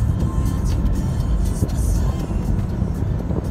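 Steady road and engine rumble from inside a car driving across the Crimean Bridge, a loud continuous low drone with wind buffeting, with no speech.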